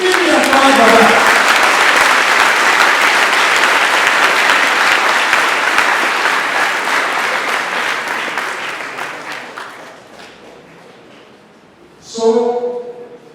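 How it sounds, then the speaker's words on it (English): Loud audience applause fills a maths league awards ceremony, sustained then gradually fading, before a speaker's voice comes back in at the end. "give me a applause for that."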